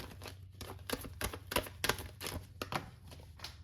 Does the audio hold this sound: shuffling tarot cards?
yes